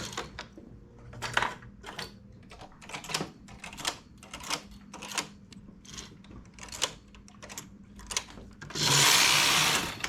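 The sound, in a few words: knitting machine knitting rows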